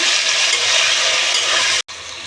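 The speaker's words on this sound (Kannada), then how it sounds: "ಹಾಗೆ ಸ್ವಲ್ಪ ಪುದೀನ ಚೆನ್ನಾಗಿ ಫ್ರೈ ಮಾಡ್ಕೊಳ್ಳೋಣ" Mint leaves fry with tomatoes in a pan for a vegetable pulao, a loud, dense sizzle with stirring scrapes that runs steadily before cutting out briefly near the end, with no voices.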